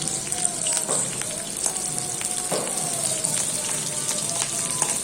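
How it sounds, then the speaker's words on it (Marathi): Onions sizzling and frying in hot oil with cumin seeds in a pan, a steady close crackle with scattered pops and a faint high hiss throughout, no talk. "त्याच्यामध्ये आपण कांदे टाकू आणि एक छानसा परतून घेऊ त्याला"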